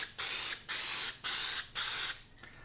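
Four bursts of pressurized aerosol spray paint, each lasting under half a second with brief gaps between, sound close and loud as the can sprays a second coat in a workshop.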